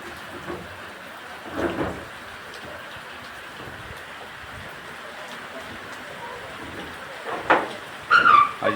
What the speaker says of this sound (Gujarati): ભગવાન વરસાદ હજી સુધી ચાલુ છે